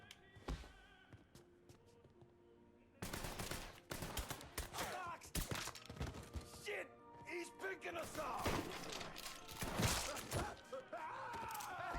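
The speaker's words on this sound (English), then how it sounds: "I love it when you fire that shot" Gunfire in the video game Mafia 3, with sharp, loud shots and bursts cracking repeatedly over a busy game soundtrack, some shots fired in quick succession.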